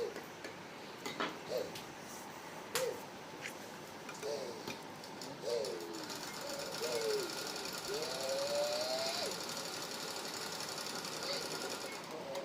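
A sewing machine stitches a sleeve for a baby suit, its rapid ticking clatter running steadily close by while someone talks over it.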